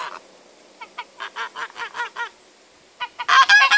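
Geese honk in a rapid series of nasal calls, a short burst, then a steady run, then a louder, harsher flurry at the end, fairly close.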